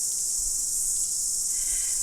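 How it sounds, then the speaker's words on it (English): Cicadas drone in a dense, continuous high-pitched buzz that fills the air with no pauses, loud and close in an outdoor setting. "how we can work with this beautiful vibration of the cicadas"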